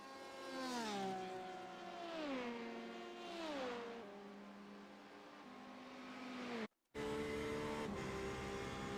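LMP2 prototype race car in a Le Mans racing video game, engine revving up and shifting through several gears in repeated rising sweeps, steady and fairly loud, with a brief cut of silence near the end.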